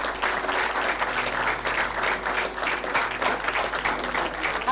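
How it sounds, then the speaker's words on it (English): Warm, sustained applause from an audience honoring a competition runner-up, steady dense clapping throughout with a faint murmur beneath. "let's give a warm round of applause to the runner-up of this year's competition"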